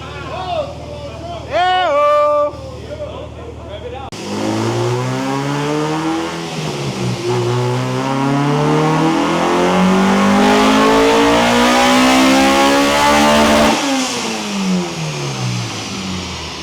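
A supercharged 2001 Acura Integra Type-R with a flex-fuel K20A engine makes a loud, sustained full-throttle pull on a dyno, the engine note climbing steadily toward high rpm before dropping off, after a short blip at the start; voices are heard briefly.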